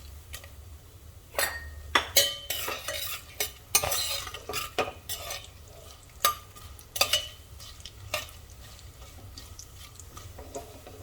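Grated coconut fries in hot oil with cloves on a low flame for sweet jaggery rice. A soft sizzle runs underneath while a spoon scrapes and clinks against the pan in uneven strokes, close up.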